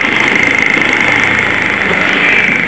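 A small manual-gear motorcycle (bebek type) in first gear with the clutch held in, its engine revved steadily and loudly up close, a continuous buzzing drone with no voices.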